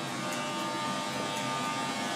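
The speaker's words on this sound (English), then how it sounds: "I love the sound of Jubilee Line trains" Jubilee Line train on the London Underground running with a steady electric motor hum and faint buzzing whine, continuous and fairly loud throughout.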